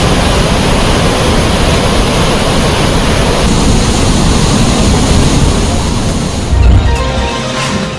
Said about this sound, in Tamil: கோவையாற்றில் வெள்ளம் பெருக்கெடுத்து ஓடுவதால் திற்பரப்பு அருவியில் தண்ணீர் ஆர்ப்பரித்து கொட்டுகிறது